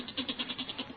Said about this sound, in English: That's the goat. He's getting restless down in the cellar.